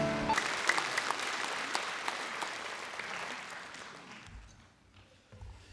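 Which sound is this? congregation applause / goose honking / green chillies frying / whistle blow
congregation applause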